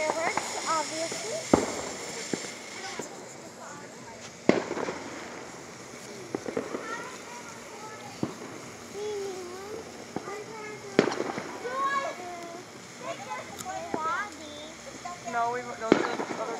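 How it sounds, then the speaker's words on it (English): Fourth of July fireworks crack and pop at scattered intervals, moderately distant, while people talk and chatter throughout. "And then there's the fireworks, obviously."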